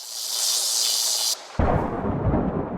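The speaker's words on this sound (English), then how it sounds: "Oh, this is a lightning bolt from before." Lightning bolt thunder in the video game Rue Valley: a high hissing crackle builds for over a second, then a sudden loud booming crash with broad low rumble rolls on to the end.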